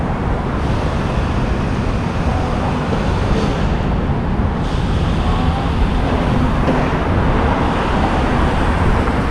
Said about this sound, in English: there you hear the traffic and all that.